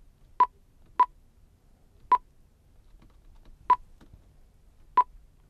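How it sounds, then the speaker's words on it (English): Five short, sharp keypad beeps from a Bendix-King mobile radio as a frequency is entered, spaced unevenly about a second apart over a quiet background with no talk. "we'll punch it in on the keypad 1686"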